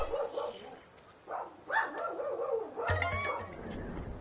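A pet dog barks and yips nearby in several short, uneven bursts, with a whimpering edge between barks.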